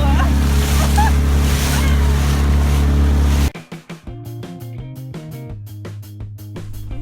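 Boat motoring hard through choppy waves near the Berry Islands, Bahamas, a loud steady engine roar with wind rush and slapping water for a few seconds before cutting to quieter, separate sounds.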